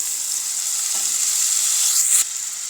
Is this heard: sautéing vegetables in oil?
yes